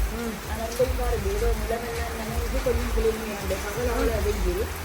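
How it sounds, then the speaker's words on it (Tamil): Heavy rain pours steadily onto surfaces, a dense continuous patter, while voices talk over it throughout. "நல்ல மழை"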